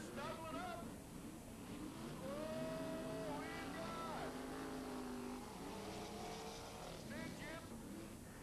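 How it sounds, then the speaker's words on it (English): IMCA modified race cars roaring around a dirt track during a heat race, engines droning and rising in pitch as cars pass, heard beneath continuous commentary. "The IMCA modified second heat started off with Jim Teets of Camarillo taking the early lead over the 911 car of Randy Jens"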